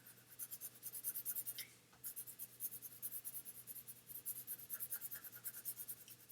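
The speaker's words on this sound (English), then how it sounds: "I'm almost using the side of my pencil to shade" Graphite pencil shading on paper, held almost on its side for a radial word design, makes soft rhythmic scratchy strokes in quick repeated bursts, close and quiet, with one brief pause partway through.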